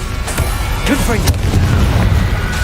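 Confringo blasting spell exploding in Hogwarts Legacy, a couple of sharp cracks and a low booming burst mixed with game effects, heard under a speaking voice.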